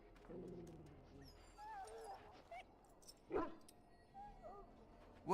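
An injured dog in a fantasy video game gives a few short whimpers and yips, close and fairly soft, spread across several seconds with quiet gaps and faint bird-like calls in between.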